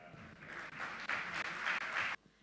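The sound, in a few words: auditorium audience applause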